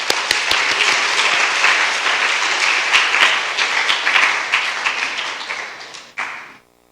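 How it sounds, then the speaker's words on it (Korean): Loud, sustained applause from a church congregation, dense and steady, fading out quickly at the end. "큰 박수로 환영하시겠습니다"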